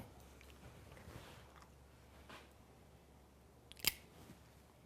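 A single sharp snip from a nail trimmer cutting a dog's toenail, sharp and close near the end, after a stretch of quiet room tone with faint rustling.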